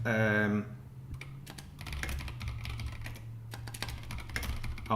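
A computer keyboard is typed on with quick, close, clacky keystrokes that continue for several seconds over a steady low background hum, after a brief tone at the start.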